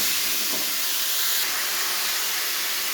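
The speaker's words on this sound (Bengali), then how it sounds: "এবারে নাড়াচাড়া করে নেবো।" Pumpkin curry cooks in a pan with a steady, fairly loud sizzling hiss and a brief scrape of stirring near the start.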